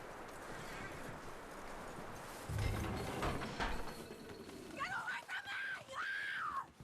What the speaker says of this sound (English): That looks like a decent horse. You should keep him. Get that horse hitched.